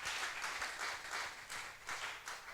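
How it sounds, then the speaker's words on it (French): Church congregation giving brief applause, a dense wash of many hands clapping at moderate volume that pulses slightly throughout, with no one speaking over it. "Acclamons la parole de Dieu"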